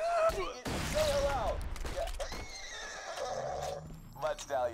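A diamond horse in the video game Borderlands 2 gives a sharp whinny, then a second neigh follows, set among creaking mechanical game effects and hoof clatter while someone talks over it.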